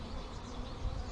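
Honeybees drone in a hive box that holds freshly drawn comb, a close, steady buzz filling the whole brief moment without any voices.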